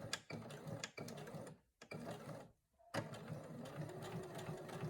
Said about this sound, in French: On se retrouve à la machine pour réaliser la couture.